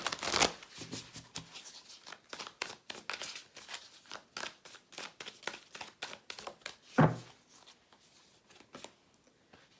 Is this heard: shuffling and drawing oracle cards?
yes